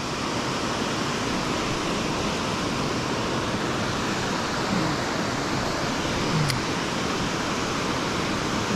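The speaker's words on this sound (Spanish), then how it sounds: "Como ha llovido estos días de atrás, baja más agua." A river running strongly and swollen after days of rain at a trout-fishing spot, a dense, steady rushing roar that stays loud and close throughout with no voices.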